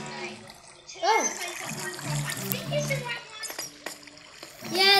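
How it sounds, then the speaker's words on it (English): Flowing water from a stream in Minecraft gurgles and splashes, mostly buried under a voice talking throughout. "I'm going down water stream."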